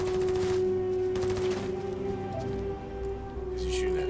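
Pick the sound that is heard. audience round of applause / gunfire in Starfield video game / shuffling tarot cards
gunfire in Starfield video game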